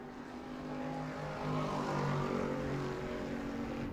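A Bomber class race car drones around the New Smyrna track at a distance, its engine note swelling louder toward the middle of the lap before easing off slightly as it continues.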